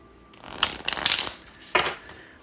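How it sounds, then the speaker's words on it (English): Cards of a small Thoth tarot deck shuffled by hand, with two or three brisk riffling bursts separated by short pauses, close and fairly quiet with no talking. "So let's shuffle this up."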